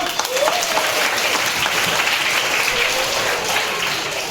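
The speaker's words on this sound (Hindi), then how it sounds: "बहुत बढ़िया, बहुत अच्छा, जोरदार ताली बजाइए।" A crowd claps steadily throughout at a school birthday celebration, a dense, sustained round of applause at moderate loudness.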